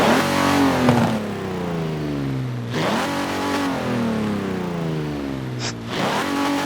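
A 1952 Hudson Hornet with a 400-horsepower engine in Forza Horizon 4 revs up repeatedly, the pitch climbing and falling in three loud sweeps with no talk over it.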